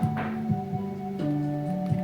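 Steady ticking from a Minecraft redstone jail mechanism, regular clicks about every quarter second over a sustained tonal hum that shifts pitch midway, fairly close and clear.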